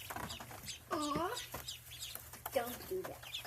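Backyard ducklings chirp and peep in chicken-like clucking bursts, a few distinct calls spaced apart at close range over a low steady background hum, with people's voices faintly around them.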